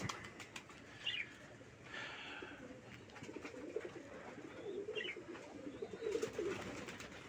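Domestic red checker pigeons, a pair, give soft low cooing with occasional wing flaps, faint and somewhat distant under a light background hum.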